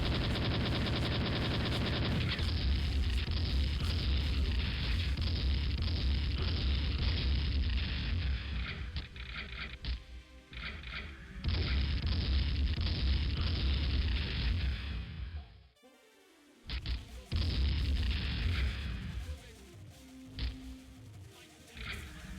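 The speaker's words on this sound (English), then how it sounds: "we just gotta be careful with the bombs" Loud, dense booming and rumbling blasts from bombs in a video game demo, nearly continuous with a brief pause and a few sharper cracks, no talking.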